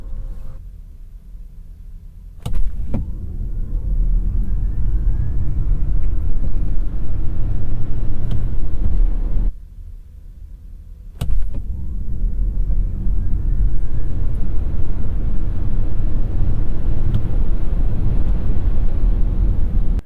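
A 2021 Ford Mustang Mach E AWD Extended Range electric SUV accelerates from 5 to 60 mph, a loud low road and wind rumble building in two runs with a quieter pause between them.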